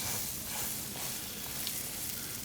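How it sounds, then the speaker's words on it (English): Hot dogs sizzling on a grill, a steady soft crackling hiss with no talking. "now it's worth checking because we can hear it sizzle"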